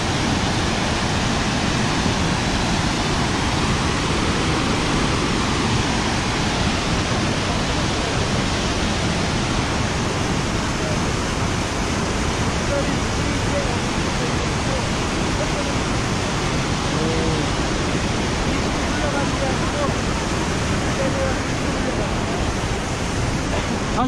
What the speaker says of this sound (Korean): 지금 폭포물이 양쪽에서 여기서도 내려오고 저기서도 내려와가지고